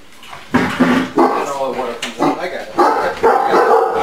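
A shy dog gives short barks and yips mixed with whimpering, close by, overlapping with people talking.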